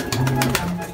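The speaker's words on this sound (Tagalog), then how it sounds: "Mga ibon nyo dyan mga kalapatids." Caged pigeons coo in low, rolling bursts, close by and fairly loud, with a person talking nearby.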